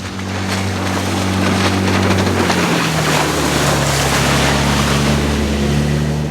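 A small motorboat speeds around an anchorage, its engine droning loud and close. The engine drops in pitch partway through while hull slap and rushing water or wind noise fill the sound throughout, and no one speaks.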